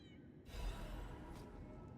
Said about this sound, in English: Excuse me, I heard an adorable mewing.